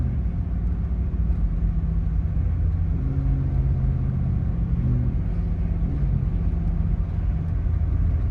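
A 1991 Pontiac Firebird Formula with a 350 V8 runs with a steady low engine rumble and a faint shifting hum, continuous and fairly close, with no talking.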